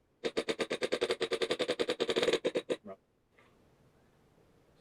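Rapid burst of about twenty sharp shots from an AVP-17 gun, each round a distinct loud crack in a fast steady rhythm, ending abruptly and followed by quiet handling noise.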